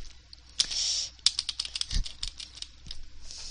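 Rapid bursts of computer keyboard typing while playing The Impossible Game, close and fairly quiet, irregular clusters of key clicks with short pauses between them.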